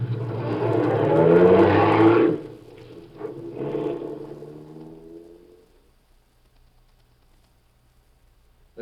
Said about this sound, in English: Get the car started, Joe